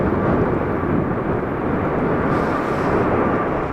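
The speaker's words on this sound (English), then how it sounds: "This Boeing Dreamliner was getting absolutely hammered by crosswinds during takeoff." Boeing Dreamliner jet rumbling steadily through a takeoff roll at Manchester in a strong crosswind, a loud, continuous broadband roar with no gaps and no voices.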